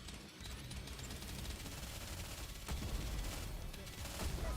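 Sustained dense gunfire and explosive bursts from a video game battle, loud and continuous with heavier blasts near the end, no pauses between them.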